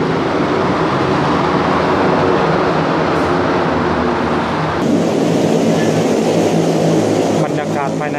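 An electric skytrain runs through a metro station late at night, a loud steady rolling hum and rumble that shifts in tone partway through, with a faint hiss of air conditioning.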